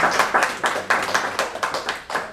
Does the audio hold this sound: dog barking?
no